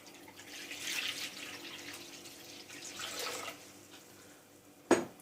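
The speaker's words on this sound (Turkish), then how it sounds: "Onun için su takviyesi yapıyorum." Water poured into a cooking pot in a kitchen, a soft hissing, splashing stream in waves that fades, ending with a sharp clank close by, no talk.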